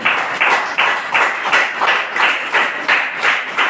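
A congregation claps in unison during a Telugu church sermon, with loud, regular rhythmic claps, about three per second, close and clear.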